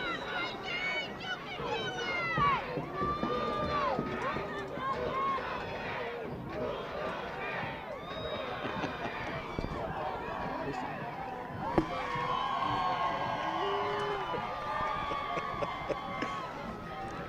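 Crowd chanting in the stands at a high school football game between Lynn Vocational Tech and Nashoba Valley Tech: a mass of voices rises and falls in a steady, distant chant that holds throughout.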